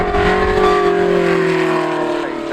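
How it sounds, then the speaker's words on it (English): A Ferrari 458 Italia GT3 race car at a GT3 shoot-out at Goodwood Motor Circuit sounds a loud, sustained engine note with steady high harmonics that sag slightly as the car passes, close and continuous throughout. "Back to Jake Hill and the Ferrari 458 Italia GT3"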